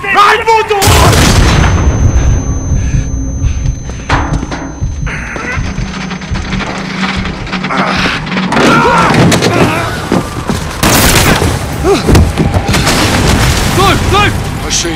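A loud secondary detonation tears through a cabin in the Call of Duty: Modern Warfare 2019 campaign, a heavy booming blast followed by rumbling debris and gunfire, with soldiers shouting over the chaos.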